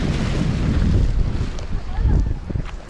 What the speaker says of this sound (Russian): Здесь катера ходят.